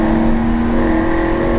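A BMW M5 accelerating hard at a car meet, its engine holding a loud, steady, tonal drone that fills the short moment close by.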